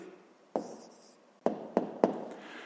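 Pen writing an answer by hand on paper during a fifth-grade maths exercise, quiet scratching punctuated by four sharp taps or strokes, close and alone without speech.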